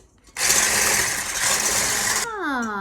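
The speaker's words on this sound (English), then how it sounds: "So let's use the hand mixer." Electric hand mixer whipping egg whites for meringue cookies, a loud steady whirring buzz that starts abruptly, runs for about two seconds, then cuts out as a voice begins speaking.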